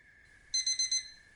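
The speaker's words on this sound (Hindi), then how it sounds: "सुबह सुबह एक अलार्म के साथ हमारी नींद खुलती है" An alarm clock beeps in four quick, bright pulses over a faint steady tone, close and clear, with no one speaking.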